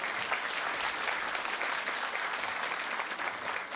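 Sustained applause from an audience at a jubilee celebration in a cultural centre, a dense even clatter of many clapping hands held at steady loudness throughout, with no voices above it.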